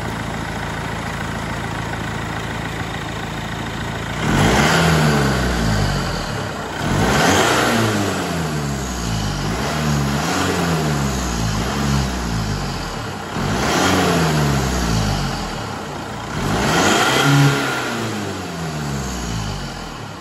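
A car engine idles with a deep, even rumble, then revs hard about five times in a row. Each rev swells loudly and falls back to idle. No voices.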